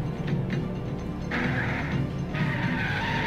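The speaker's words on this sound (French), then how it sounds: "Mustang Drift" A Mustang drifting in the video game Alan Wake, two bursts of tire squeal over a continuous engine roar.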